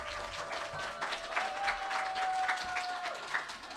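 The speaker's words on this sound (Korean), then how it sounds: "앞으로 박수로 모시겠습니다." Audience applause at a Korean field-study report meeting, a steady wash of clapping welcoming the next presenter, fairly even throughout with a faint tone running beneath.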